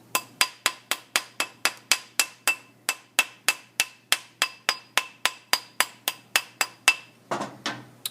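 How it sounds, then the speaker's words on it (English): A soft hammer pounds a metal ring into a round shape during metal fabrication, striking in a steady run of about two dozen loud, sharp, evenly spaced blows that ring briefly, with a scrape and shuffle near the end. "Once we're done with the soft hammer, pounding the shape"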